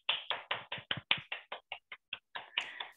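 A single moderator of an online environmental debate claps alone, about fourteen close, loud, evenly paced hand claps with a few brighter accents near the end.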